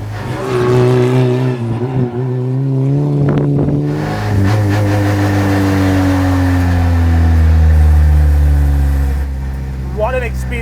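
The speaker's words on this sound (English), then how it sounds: "Oh, that blow off right here. And that straight pipe exhaust." A mid-engine Volkswagen Polo RX rally car's raw, raspy straight-pipe exhaust drones loud and close, with a blow-off valve, its pitch climbing and falling as the engine is pushed hard.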